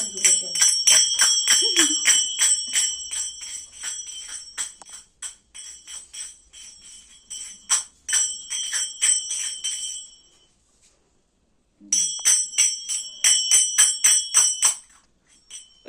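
A small child strikes a khartal in quick bursts of bright metallic clacks and jingles, pausing briefly mid-way before another lively run, close and fairly loud.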